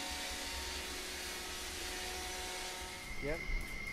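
A robot vacuum cleaner runs with a steady, fairly close droning hum and whine, then shifts pitch near the end; a voice speaks over it.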